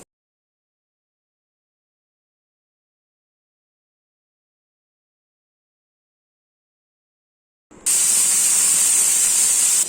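Near silence for most of the clip, then a sudden loud, steady hiss as multigrain adai roasts on a hot pan during the final two seconds.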